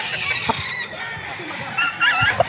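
Tornado Hatch gamecock on a farm in Norzagaray, Bulacan, giving short clucks and a brief crowing note close by amid farm background noise, with a person's voice and handling sounds mixed in.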